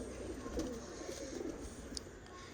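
A Teddy pigeon, a prized champion bird kept by a fancier, coos in a faint, low, rolling murmur against quiet background noise, with no voices present.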